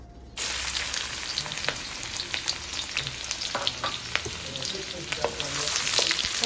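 Garlic and shallots stir-frying in hot oil in a pan for chicken pad thai, a steady close sizzle with scattered crackles and stirring scrapes, no talk.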